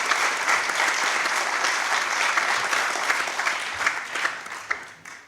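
Sustained audience applause at a French National Assembly conference welcoming an endocrinologist academician, dense steady clapping filling the room, with a few sharper claps near the end as it begins to thin.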